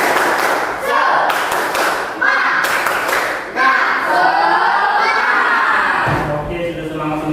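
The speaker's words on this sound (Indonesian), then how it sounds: "Kita tepuk semangat dulu" A group claps in a quick, rhythmic pattern of bursts while voices chant along, loud and close, like a classroom cheer.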